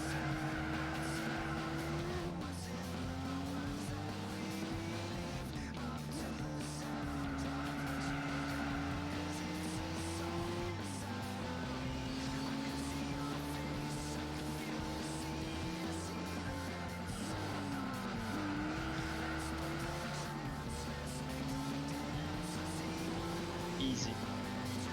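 A race car in Gran Turismo 4 oversteers through corners, its engine note rising and falling through repeated gear changes while the tires squeal and skid, loud and continuous.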